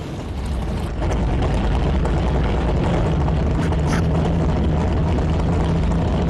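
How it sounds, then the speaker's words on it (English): A drag racing car engine starts in the NHRA drag racing video game, a loud, steady low rumble that settles into a continuous idle after a brief buildup. "Okay, start your engine."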